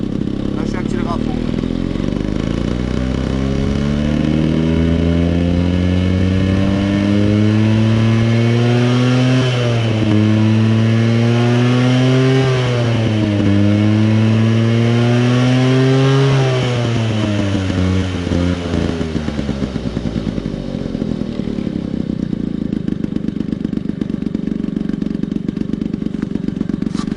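Motorbike fitted with a homemade racing exhaust, held at full throttle: a loud, continuous close-up engine roar whose pitch climbs, wavers and dips repeatedly, sounding strained as if choking, with a person talking over it.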